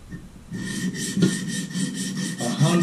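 Wicked Edge precision sharpener drawing a 100 grit stone along a Boker Kalashnikov automatic knife blade, a series of close, rhythmic raspy strokes, about one every third of a second.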